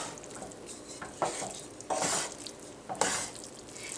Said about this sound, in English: I'm just going to stir it up a little bit.